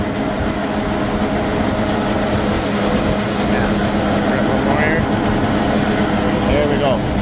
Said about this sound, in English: Faster you roll, faster pulls the extractor, more green is going to go flying up that auger